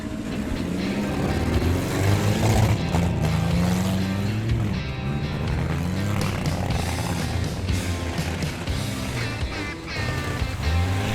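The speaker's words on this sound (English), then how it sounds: "As you can hear the roar and the sound of the engines" Race car engines roar together in a muddy smash-up derby, a loud, continuous, rumbling drone that holds steady for the whole stretch with no break.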